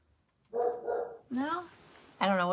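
Dogs bark in a couple of close, loud bursts near the start, followed by a person talking nearby.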